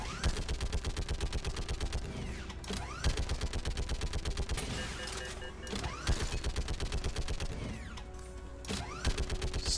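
Sustained gunfire in the Mass Effect 3 video game, rapid automatic bursts hammering almost without pause, loud and close, with brief dips between volleys.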